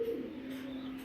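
A racing pigeon in a loft gives a soft, steady low coo that hums on for about a second, close by and alone.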